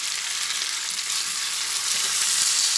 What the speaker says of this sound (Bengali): ভালোভাবে নাড়াচাড়া করে এটা কষিয়ে নেব